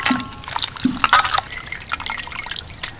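Chopped fenugreek greens being washed by hand in a bowl of water, bringing light splashes, drips and sloshing that sound close and moderately loud.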